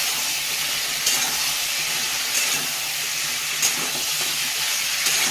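Chicken is being fried and stirred in a pan for a kosha-style curry. A dense, loud hissing sizzle fills the whole stretch, broken by a few scraping stir strokes and with no one speaking.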